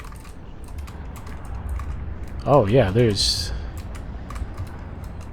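Computer keyboard keys clatter in quick, irregular bursts as someone plays the Outer Wilds mod Guardian with keyboard and mouse, someone talking over the clicking partway through.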